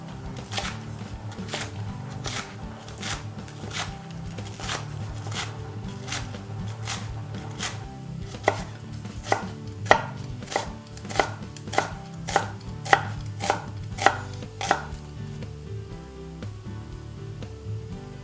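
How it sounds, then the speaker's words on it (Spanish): A knife chops spring onions on a board, about twenty sharp, evenly spaced taps in a steady rhythm that grows louder and crisper toward the end before stopping, with no talking. "Los tallos los cortamos en rodajas y la cabeza la cortaremos en juliana"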